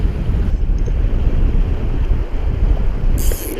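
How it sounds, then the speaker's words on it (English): Steady, loud wind roars and buffets the microphone beside a river while fly fishing, with a continuous rushing bed throughout. "The wind and all."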